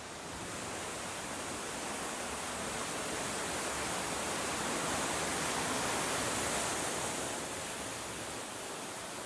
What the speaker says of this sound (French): Ce sont donc les cascades de Nectan's Glen dont la formation a duré des millénaires.